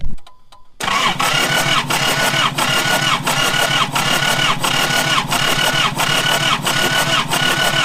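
A ZD30 diesel engine cranks over steadily on the starter during a compression test with a gauge fitted, loud and close, with an even, repeating pulse of compression strokes after a brief quiet start.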